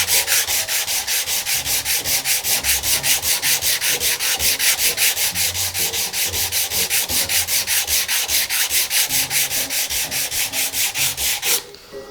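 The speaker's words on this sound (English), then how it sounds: "I'm gonna choose this 150 grit now, and I'm gonna keep going." A wooden nameplate is hand-sanded with 150 grit sandpaper in fast, even back-and-forth strokes, a close, rhythmic scratchy rasp that continues without pause before stopping at the end.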